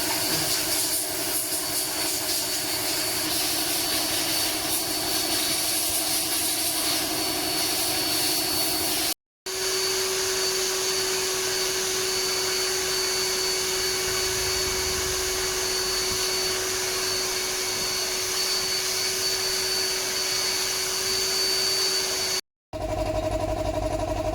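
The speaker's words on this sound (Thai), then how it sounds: "ดูดฝุ่นเช็ดกันให้นะ" A steady, loud vacuum cleaner drone runs continuously while cleaning a car interior during an air conditioner repair job, broken by two brief cutoffs.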